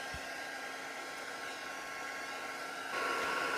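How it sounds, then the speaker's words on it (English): Heat tool melting embossing powder, a steady, breathy roar of blown hot air, fairly faint and continuous, rising slightly louder near the end, with no talk. "just with our trusty heat tool, we're going to emboss"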